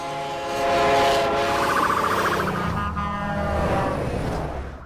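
A passing train rumbles past with a sustained horn blast whose tone shifts as it goes by, loud and near, then fading slightly at the end.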